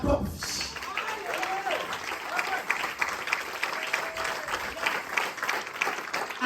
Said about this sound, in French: Maintenant tu vas acclamer Dieu pour ta propre vie.